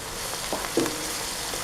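Steady sizzling of spices and masala okra being stirred in a hot frying pan, with a few soft scraping knocks over the continuous frying hiss.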